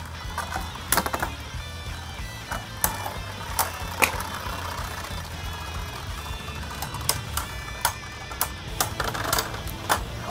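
Beyblade spinning tops clash in a stadium, Dullahan D4 set to Slingshock mode against Brutal Lunar L4: a steady whirring hum punctuated by sharp, irregular metallic clicks and impacts, close and fairly loud, with no voices.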